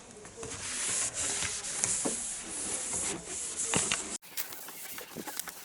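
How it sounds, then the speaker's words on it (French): A cloth wipes around the surface of a wardrobe in repeated soft, hissing rubbing strokes, close and fairly quiet, broken off by an abrupt cut before a few more brushing sounds. "Nettoyer tout le tour comme ça avec un chiffon pour que ce soit propre et que ça colle mieux"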